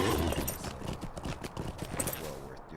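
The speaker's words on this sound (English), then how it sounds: "Let's get on the horse of looming autumn." Horse hooves clip-clop at a steady trotting rhythm in the online game Lord of the Rings Online, moderately loud and continuous with some faint background noise.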